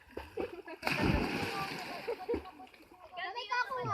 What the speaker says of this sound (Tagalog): mga bata, o pag high tide nakapaglangoy na